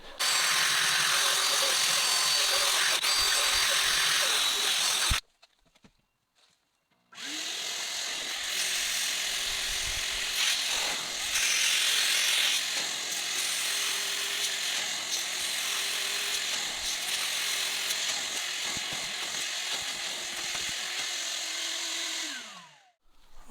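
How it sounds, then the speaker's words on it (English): A power drill whirs in long continuous bursts with a brief pause, its brush scrubbing a car seat with a rough, rising and falling hiss. "I'm gonna agitate it with a drill brush"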